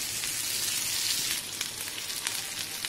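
Boiled soya chunks and peas sauté on a hot tawa, giving a steady, close sizzling hiss with faint crackles and a few stirring scrapes. No one speaks.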